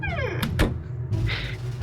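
A door closes by itself in a ghost hospital video game, giving a solid thunk and creak among other game effects, close and fairly loud, with no speech over it.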